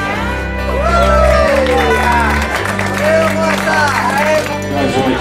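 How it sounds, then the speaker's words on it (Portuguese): Applause from a crowd honoring the five best of the Senior B category at the Metropolitano final in Cubatão, steady clapping under a loud announcer voice with music-like tones throughout. "Olha a salva de palmas."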